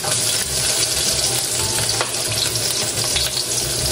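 Garlic and ginger sautéing in hot cooking oil, a loud, steady sizzle with stirring throughout.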